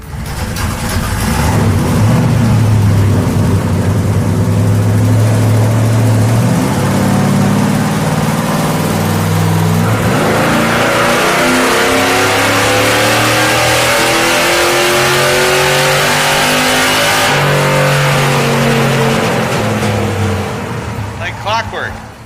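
Supercharged car with heavy mud and snow rear tires revving hard on a dyno at about 285 horsepower, loud engine rising and falling through repeated pulls with a whining belt, people talking underneath.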